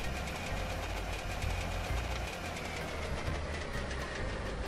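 A car engine fitted to a bicycle in The Long Drive, running flat out at top speed: a steady, loud, unbroken mechanical drone with a rattling edge that holds for the whole stretch, with no voices.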